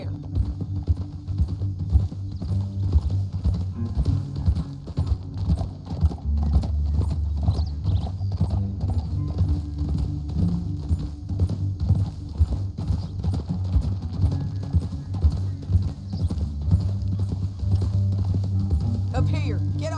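Horses' hooves clip-clop steadily on the ground in Red Dead Redemption 2, close and rhythmic throughout, with an occasional whinny and people talking over them.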